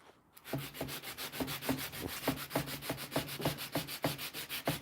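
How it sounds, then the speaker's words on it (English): Sandpaper is rubbed by hand over a wooden cabinet door in quick, even back-and-forth strokes, a close, steady scratchy rasp with a regular rhythm and no talking. "I just turn my sandpaper over to a more coarser area."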